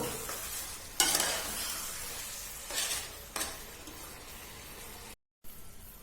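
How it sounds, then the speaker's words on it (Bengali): A spoon stirs a biryani mixture laced with rose water in a pan over a soft, constant sizzle, with three distinct scraping bursts a couple of seconds apart and a brief silent gap near the end. "এইবার পুরো জিনিসটাকে ভালো করে আমি নেড়ে চেড়ে দেব।"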